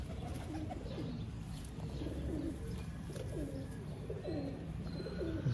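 Repeated soft cooing of a breeder pair of rare pigeons, rolling low calls in a steady rhythm, close by and moderately loud over faint background noise.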